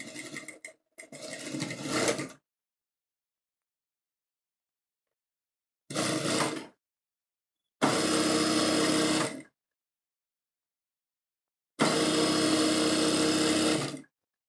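A sewing machine stitches a sixteen-panel kalidar lehenga in four separate bursts: a choppy start, then three steady runs of close, even mechanical whirring divided by stretches of silence.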